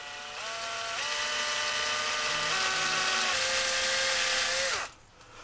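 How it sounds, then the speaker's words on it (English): A power drill runs steadily for nearly five seconds, boring a small pilot hole to prepare for fitting a riv nut, its whine shifting pitch slightly as the bit cuts before it spins down and stops; no talking. "Now I'm going to go through with a small pilot hole."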